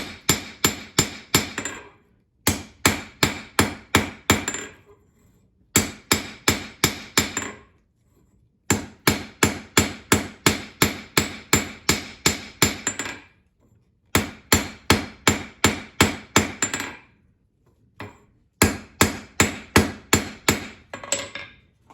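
A hand hammer strikes hot steel on an anvil while forging a slot punch, ringing blows in quick rhythmic bursts of about five to ten, separated by short pauses, loud and close with no talk.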